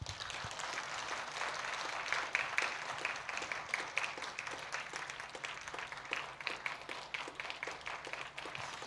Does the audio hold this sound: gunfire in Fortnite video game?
no